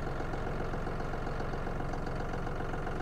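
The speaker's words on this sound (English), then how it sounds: "Oh, hey, tractor coming back up." A tractor engine idles with a steady low, throbbing rumble that stays even and moderately loud throughout, with no voices.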